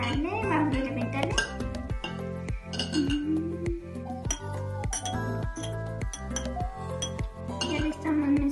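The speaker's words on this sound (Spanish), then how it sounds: "Ahora vamos a mezclarle, vamos a reventarle." Vanilla cake batter with sugar, oil and flour is whisked hard in a bowl, producing steady rhythmic clinking of a utensil against the bowl, close and loud throughout, with talk over it.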